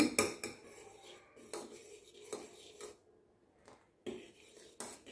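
A spoon scraping and clinking in a pan while flax seed gel is stirred, giving intermittent metallic scrapes and taps with quiet gaps between them, close and fairly soft.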